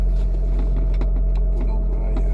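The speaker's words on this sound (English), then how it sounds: "The exhaust system is a record Monza, which you now hear." Abarth 595C Turismo convertible fitted with a Record Monza exhaust, a steady low engine rumble and drone with faint clicks, heard from inside the car at a constant level.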